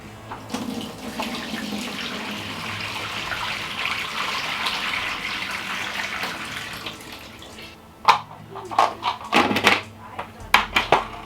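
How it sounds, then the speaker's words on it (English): Water from a kale rinse drains through a strainer in a kitchen sink, a steady rushing stream for several seconds, then stopping, followed by a few sharp clatters and knocks. "We have our kale that has been soaked in warm water for about 10 minutes. Then I'm just going to strain it."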